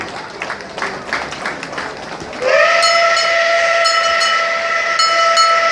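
A historic steam train arrives at Chernivtsi station, its whistle sounding in a loud, sustained multi-tone blast after a few seconds of crowd noise and cheering.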